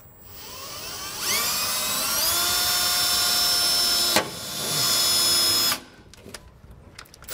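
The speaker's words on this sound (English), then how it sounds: "I'm gonna actually take a small drill bit, 1/4 inch or whatever size is fine" A power drill with a 1/4 inch bit boring a pilot hole in a Ram pickup truck bed for a fifth wheel hitch, a loud steady whine that winds up, dips briefly, surges again, then stops, followed by a few faint knocks.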